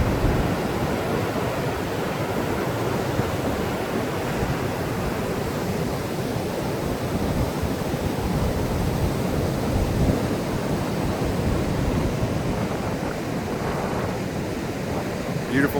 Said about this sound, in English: On down the river she goes.